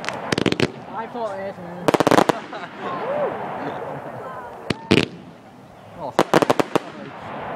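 Fireworks at a bonfire night display in Carey in 2012 bang in sharp rapid clusters, some single loud reports, over crowd chatter and people talking nearby.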